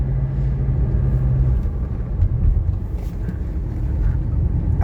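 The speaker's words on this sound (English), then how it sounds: "I'm gonna go a little fast through this roundabout to test the suspension" A 1985 Mercedes 300D diesel with 18,000 miles driving fast through a roundabout, heard from inside the cabin as a steady, loud low engine and road rumble with some wind noise.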